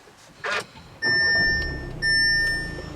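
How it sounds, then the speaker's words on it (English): A 2015 Audi A3 TDI turbo diesel engine, push-button started, turns over and settles into a low idle rumble, with steady electronic chime tones sounding above it. "push the button to start the engine"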